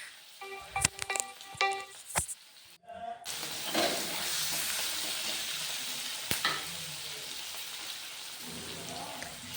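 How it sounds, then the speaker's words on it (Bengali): Chopped onions fry in hot oil for a Bengali boal fish curry masala, with a steady crackling sizzle and occasional stirring clatter running close and loud throughout, after a few sharp utensil clinks at the start. "পেঁয়াজটা ভালো করে তেলে ভেজে নিচ্ছি"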